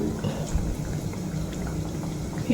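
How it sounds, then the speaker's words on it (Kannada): Onion pakoda fry in hot oil over a medium flame, giving a steady, dense sizzle and bubbling that stays even throughout. "ಈಗ ಫ್ರೈ ಮಾಡ್ತೇನೆ"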